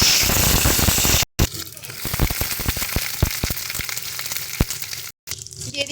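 Ivy gourd (kundri) drops into hot mustard oil in a wok and fries with a loud, steady sizzle, crackling pops scattered through it, alone with no talk.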